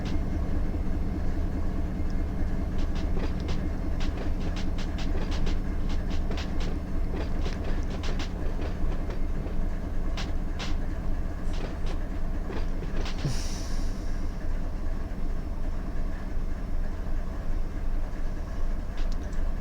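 A Run8 simulator train led by SD40-2 locomotives cruises at about 12 mph, giving a steady, continuous rumble of rail noise with repeated clickety-clack wheel beats and a brief hiss near the end, and no talk.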